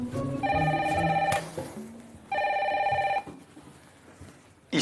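The red telephone in the Secret Story house rings loudly and electronically in two long bursts with a pause between them, with no talk over it.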